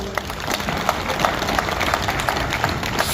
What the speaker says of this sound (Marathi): हा विचार मंचावरल्या सर्व सन्मान्य मान्यवरांसाठी एकदा जोरदार टाळ्या होत्या